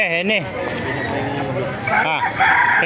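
Roosters crow loudly and close at a busy chicken market in Baliuag, Bulacan, one long rising crow at the start and more crowing later, over a steady din of chatter and clucking fowl.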